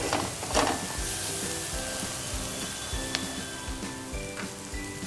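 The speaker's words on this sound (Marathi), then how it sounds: "थोडंसं आता त्याला आपण तेल सुटेपर्यंत परतून घेणार आहोत।" Masala sautéing in oil in a pan for prawn (kolambi) masala, a steady close sizzle and crackle with occasional stirring, no talking.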